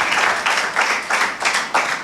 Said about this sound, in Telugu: చప్పట్లు కొట్టి అభినందనలు